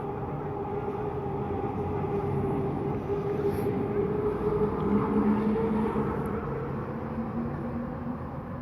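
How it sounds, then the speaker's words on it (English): A train rumbles past in a steady, heavy roar that swells slightly midway and holds, with no voices over it. "Tell me why some of those trains are louder than the others"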